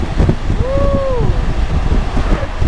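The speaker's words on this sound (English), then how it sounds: "It's a little breezy." Wind rushes steadily and loudly over the microphone during a ride on a sandy, flat road in western Pennsylvania, a low buffeting roar broken by a brief tonal whine.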